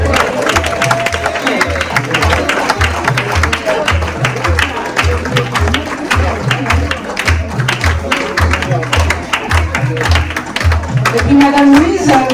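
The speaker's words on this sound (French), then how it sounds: "Applaudissez-moi ça." An audience at a trainees' stage show claps for the performers, a loud sustained crowd applause with cheering over a steady rhythmic low thumping beat, and voices mixed in throughout.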